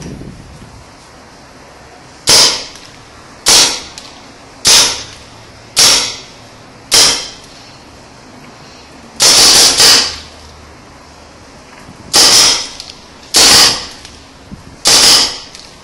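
Sharp pops from a custom MR36 paintball marker fired one at a time, about ten shots with a brief double burst midway, loud and close over quiet outdoor background.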